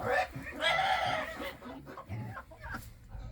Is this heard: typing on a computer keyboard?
no